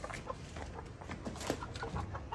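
Chickens cluck in short, scattered bursts while being caught, the calls close and fairly loud over a busy, noisy background.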